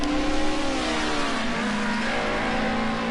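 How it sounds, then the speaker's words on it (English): A Cosworth race car engine in a racing video game revs hard while accelerating down a straight, giving a loud close whine that climbs in pitch and then holds steady, with no talking. "Watch this Cosworth fly down the straight"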